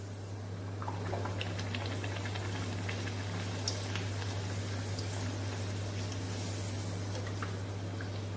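Bread poori deep-frying in hot oil, a steady close bubbling sizzle with fine crackles that swells as the dough goes in and holds evenly throughout.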